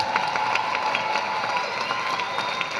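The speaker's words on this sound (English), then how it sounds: "You can applaud that one real quick." Audience applause and cheering at a Northern Essex Community College commencement ceremony, a dense continuous clatter of clapping from a large crowd, steady and fairly loud throughout.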